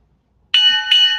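A draft timer bell rings out loud and clear during a fantasy football draft, struck twice in quick succession with a bright ringing tone that sustains after each strike.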